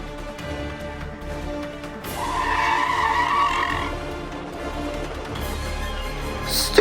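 A race car's tires skid and squeal in a cartoon battle between a race car and a tank engine, a single rising screech of a few seconds over a low engine rumble, with no talking.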